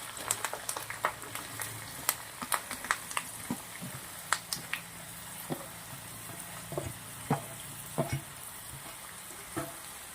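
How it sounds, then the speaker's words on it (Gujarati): Potato chips fry in oil with mustard seeds, asafoetida, green and dried chillies and curry leaves, a soft background sizzle broken by frequent sharp pops and crackles, close and irregular. "તેલના અંદર બટાકાની ચીપ્સને એકદમ શેકાવા દેવાની છે"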